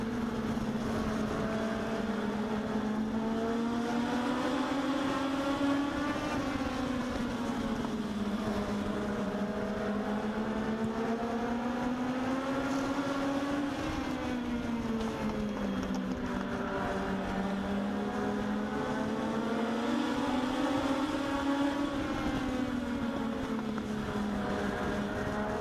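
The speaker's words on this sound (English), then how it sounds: "Side by side, Monroe going to take a look at the inside as he rolls into turns 3 and 4." Race cars at Meridian Speedway run side by side through turns 3 and 4 of an oval during a Legends race, a steady loud engine drone rising and falling as the pack circles, with no talk heard.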